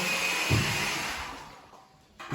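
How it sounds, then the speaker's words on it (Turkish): A hair dryer runs in the morning at a training camp, giving a loud, steady blowing whoosh that fades and cuts off near the end, with no talking. "Sabah sabah fön makinesi açılır mı?"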